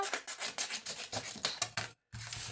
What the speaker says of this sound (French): Je découpe la partie qui m'intéresse.